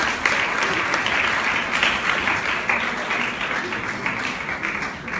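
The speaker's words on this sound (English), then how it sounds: "Please give them a round of applause." Sustained audience applause fills the hall after a drama performance at a closing ceremony, a dense, steady wash of many hands clapping at even loudness throughout, with no voices over it.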